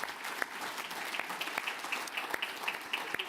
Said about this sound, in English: a final round of applause for all of our sponsors, please